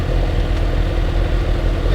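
A 2022 Suzuki Hayabusa motorcycle engine runs steadily in first gear, a dense, even, close drone that holds without a break for a moment.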